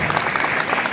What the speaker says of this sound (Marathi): जोरात टाळ्या, जोरात जोरात जोरात